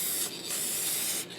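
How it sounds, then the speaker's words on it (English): A loud, steady aerosol fixative spray hisses close by in a couple of continuous bursts with a brief break. "And I'm going to spray it to the side."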